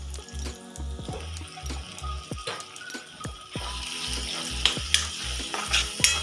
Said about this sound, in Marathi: सगळे मसाले आपण भाजून घ्यायचे